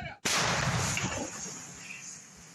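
A single loud, close blast of self-propelled artillery fire booms suddenly at a field position on the Lyman front in Ukraine, then a long rumbling echo fades out.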